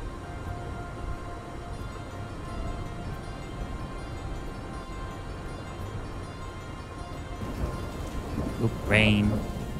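Rain in the post-apocalyptic management video game Dustland Delivery, a steady hissing downpour with low rumbling, carrying on evenly before a short voiced exclamation near the end.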